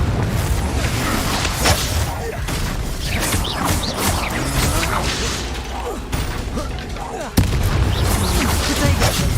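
Fire spells blast during Hogwarts Legacy combat, a loud, dense run of booming bursts and crackling clatter, with a sharp heavy hit near the end, under shouted voices.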